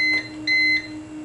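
An uninterruptible power supply running on battery emits two short, clear electronic beeps about half a second apart, alone over a low steady hum.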